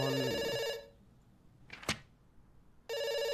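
An old-style telephone rings in the video game Doctor Langeskov, a loud repeating electronic bell that stops, leaves a short gap with a brief sweep, then starts again.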